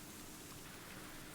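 Torrential rain pours down during a sudden hailstorm that flooded streets in southern Bolivia, a dense, continuous hiss with no breaks or voices.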